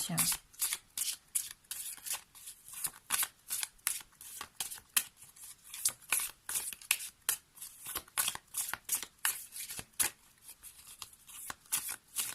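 Oracle cards being shuffled by hand in quick, rhythmic bursts of papery riffling, close and fairly loud, repeating steadily for the whole stretch.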